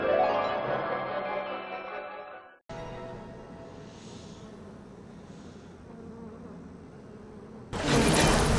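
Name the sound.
insect swarm plasmid attack in video game Bioshock Remastered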